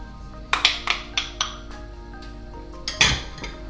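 A spoon clinks repeatedly against a bowl while mixing egg into almond tart dough, about seven close, sharp taps in an uneven rhythm, then a louder clatter near the end, with no talking.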